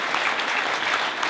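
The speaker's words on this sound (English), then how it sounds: "Let's give them a round of applause for they've worked so hard." A school-district audience claps for the board at a State of Schools event, a brief, dense burst of steady applause with no talking over it.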